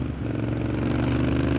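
A street scrambler motorcycle engine runs close by with a low, pulsing rumble and faint mechanical clatter, steady over the short stretch.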